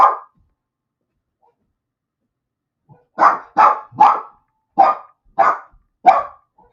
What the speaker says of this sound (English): that's the dog in the background who has decided that he's going to bark